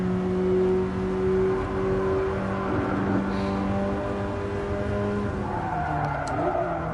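BMW E30 M3 engine in a VR racing game, revving steadily through a lap with tire squeal and skidding, loud and continuous, its harmonic tone holding level before shifting near the end.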